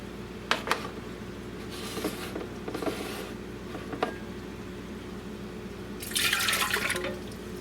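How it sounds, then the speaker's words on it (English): Warm water is poured into a bowl for bread dough, heard as faint splashes and trickles with a louder rushing pour near the end, over steady room hum. "let's go ahead and add the water"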